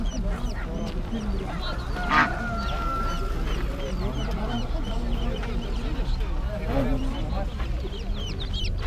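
Geese honking among ducks and chickens at a spring poultry market, with repeated calls from several birds over steady crowd noise and nearby voices talking.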